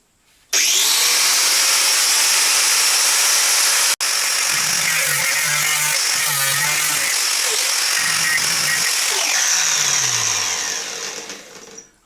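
Angle grinder cutting through the deadbolt of a jammed composite door, a loud, sustained high-pitched whine that starts abruptly, cuts out for an instant, then resumes and winds down at the end.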